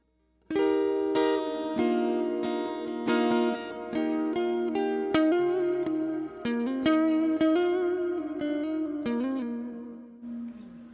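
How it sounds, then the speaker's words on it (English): Electric guitar, an Epiphone Les Paul with Lambertone Crema pickups, played with a thin, bright split-coil neck tone, a series of strummed and picked chords ringing out with slight effects, no talking. "Let's try the neck pickup split, see what that sounds like."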